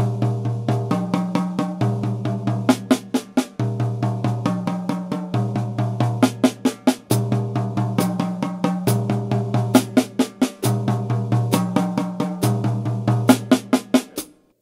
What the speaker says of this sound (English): And then I can move to the snare drum, and it sounds like this.